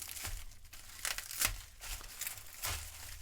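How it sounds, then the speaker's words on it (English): A protective package holding a trading card is torn and opened, with repeated crinkling, rustling and tearing bursts in an irregular rhythm, close and fairly quiet, with no speech. "Let me get this opened up here. Packaged really well. Nice and protected."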